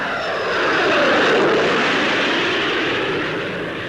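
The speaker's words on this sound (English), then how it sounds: "installed under an Ashton, is the Rolls-Royce Conway bypass engine, a major advance in gas turbine technology" A Rolls-Royce Conway bypass jet engine mounted under an Avro Ashton test aircraft roars past in a flypast, a loud broad rushing whine swelling and fading slightly, with no voices.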